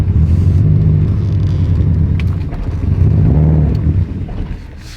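A built Subaru STI engine runs rough on its first start with a low, uneven rumble and wavering idle for several seconds, loud and close, with no voices.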